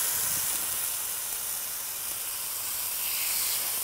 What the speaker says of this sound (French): l'idée est vraiment de saisir les pièces de viande